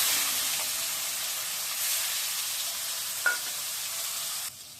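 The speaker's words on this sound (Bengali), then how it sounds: "এবার মাছগুলো ভেজে নিচ্ছি" Fish pieces fry in hot oil with a steady, moderately quiet sizzle that holds throughout, broken by one brief clink before it cuts off near the end. No one speaks.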